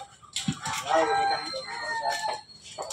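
A rooster crows nearby in a rural yard, one drawn-out cock-a-doodle-doo followed by a few softer clucks.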